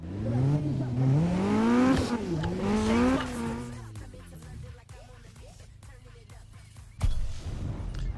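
A front-wheel-drive car with a badly torn-up bonnet drifts at a drift event in Need for Speed, its engine rising and falling loudly through sweeping revs, then easing off before a sudden burst of throttle near the end.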